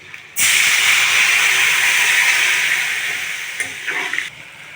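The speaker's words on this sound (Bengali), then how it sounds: "জল করে রেখেছি, এই জলটা দিয়ে দিচ্ছি।" Turmeric water poured into a hot pan of oil left from frying tilapia and brinjal for a fish curry, bursting into a loud, steady hiss and sizzle that slowly fades, with a few spits and crackles near the end.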